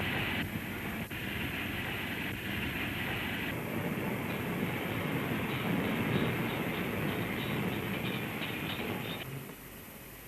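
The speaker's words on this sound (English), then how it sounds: "and Potter moves his engine off the shed to join his waiting train." An LMS steam locomotive moves off the shed in 1939, heard as a steady, muffled rumbling roar of fairly even loudness that fades slightly at the end, on an old noisy recording.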